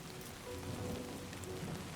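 Steady rain in Death Stranding 2 patters densely on surfaces as a continuous hiss, growing slightly heavier partway through, with faint low rumbles in the background.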